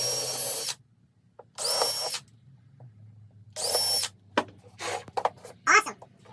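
A power drill bores a 1/8 inch hole in wood in three short whirring bursts separated by quiet gaps. Brief knocks and handling clatter follow near the end.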